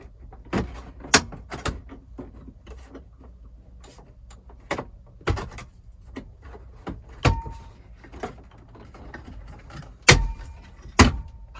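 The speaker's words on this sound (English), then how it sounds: "So we'll open this door and use a trim tool." Plastic trim on a car dashboard face panel being pried with a trim tool, giving a series of sharp, close clicks and pops at irregular intervals over quiet handling noise.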